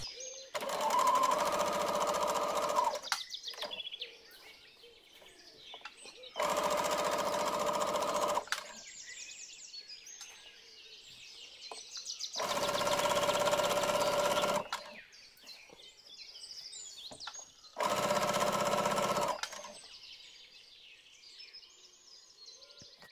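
Sewing machine stitching a stretchy t-shirt seam in four separate bursts of a few seconds each, with quiet pauses between runs; loud and close, with no talk.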